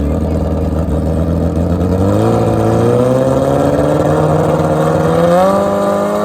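A GSXR 1000 and a Kawasaki ZX14 drag racing: motorcycle engines rise in pitch in a sustained loud acceleration, with an announcer's voice faintly over the roar.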